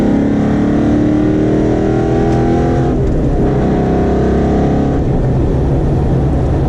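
A race car engine drones loud and close as the driver downshifts with an MGW race spec shifter, its pitch stepping down in clear drops, then rising and dropping again, steady and with no talk.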